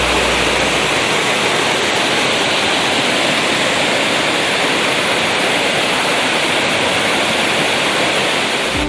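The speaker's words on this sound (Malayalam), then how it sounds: "അടുത്ത് നിറഞ്ഞൊഴുകുന്നുണ്ട് ധോണി വെള്ളച്ചാട്ടം." Dhoni waterfall in the forest, a loud, continuous rushing roar of cascading water that holds steady and close throughout.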